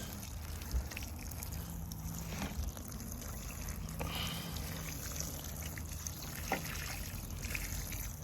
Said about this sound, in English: I'm going to give it water too.